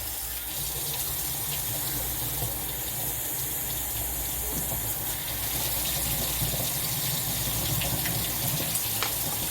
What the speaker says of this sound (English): Now let me get this faucet water on real quick.